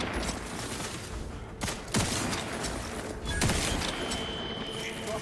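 Rapid bursts of gunfire from a firefight in the video game The Outer Worlds 2, with several volleys and sharp shots layered over a busy, continuous battle din.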